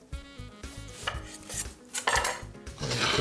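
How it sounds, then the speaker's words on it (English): A knife slicing Canadian bacon on a board, a series of close, short cutting strokes and taps in an uneven rhythm, with no voices. "So I'm just gonna make a couple slices."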